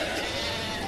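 A sheep bleats once near at hand, a short wavering cry standing alone.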